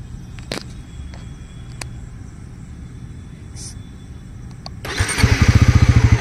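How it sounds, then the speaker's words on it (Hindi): A Bajaj Pulsar NS400Z is switched on with a few faint clicks and hum, then the engine cranks and fires into a loud, close, rhythmic idle in the final seconds. "बाइक को एक बार ऑन कर लेते हैं इग्निशन।"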